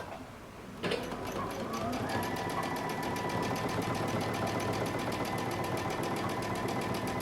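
A sewing machine stitches across the entire bottom hem of a cape, starting abruptly after a quiet moment and holding a loud, steady, rapid mechanical chatter close by, its motor pitch rising slightly as it gets going.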